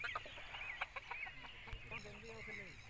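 A young Aseel rooster gives soft, quiet clucks and short throaty calls, with faint human voices in the background.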